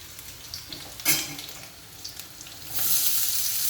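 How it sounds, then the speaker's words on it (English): Onions go into a hot pan where garlic and ginger are already sautéing for papaya bhurji. A soft sizzle is broken by a few clatters, then a louder, steady frying hiss takes over. "now I will add the onions into it"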